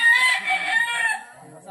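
A rooster crows loudly and close by in a rural provincial yard, one sustained call that trails off, with faint clucking after it.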